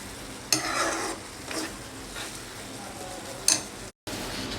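A ladle stirs semiya kheer in a pan on high heat, giving soft scraping strokes and a couple of sharp clinks against the metal over a faint bubbling simmer, close and alone.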